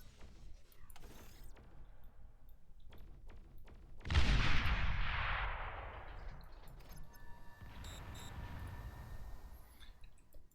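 Units open fire in the real-time strategy game Beyond All Reason, a sudden loud burst of booming gunfire and explosions that decays over a couple of seconds, followed by scattered mechanical clanks and tones.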